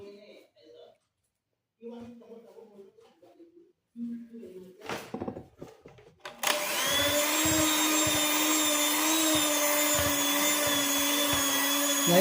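Electric mixer beating red-tinted mochi dough for peanut and palm sugar mochi; after someone speaks briefly, a loud close steady motor whine starts and runs on continuously.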